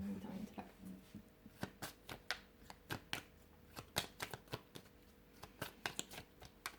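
Tarot cards shuffled for a card draw, a quick irregular run of crisp riffling snaps and slaps, close and fairly quiet.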